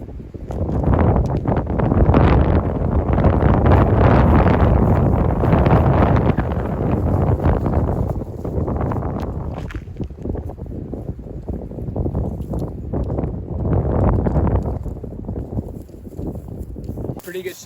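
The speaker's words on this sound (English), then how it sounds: "it's very windy still" Strong wind, about 15 mph, buffets the microphone on a golf course in a loud, continuous roar, easing slightly midway before gusting up again.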